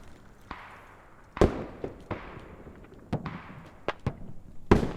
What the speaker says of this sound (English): And a grenade way too long.